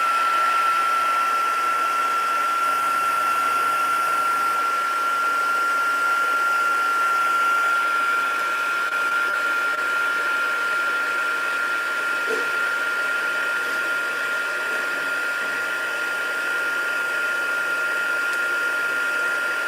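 A heat tool blows a steady, loud whoosh of hot air for the whole stretch, drying distress ink on card, with only a faint voice in the background.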